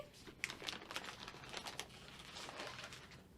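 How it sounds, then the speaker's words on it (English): A plastic bag holding thinset mortar is handled in a basement, giving faint, scattered crinkling and rustling with a few sharper crackles, quiet and close, with no speech. "I keep my Thinset in a plastic bag in my basement."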